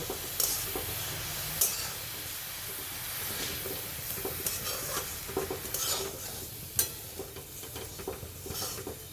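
Food is stirred in a pan with scraping strokes at irregular intervals over a soft, continuous sizzle close by.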